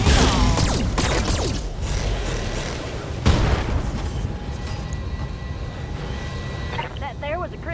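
A combat mech in the video game Battletech fires all its weapons in a heavy, loud barrage of booms and blasts, with a sharp strike midway, followed by rumbling, whirring mechanical tones, while a voice speaks over it.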